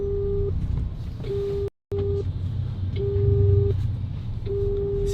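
Repeated phone line tones while calling a restaurant, evenly spaced steady beeps with a short silent gap, over a busy background hum with no talking.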